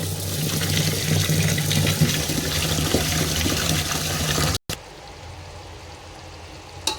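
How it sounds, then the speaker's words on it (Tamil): Rice is washed in water for tomato rice, with loud, close sloshing and splashing that runs continuously, then cuts off abruptly and gives way to a quieter, thinner trickle. "இருபது அரிசி இதை இப்போ நம்ம கழுவி எடுத்துக்கலாம்"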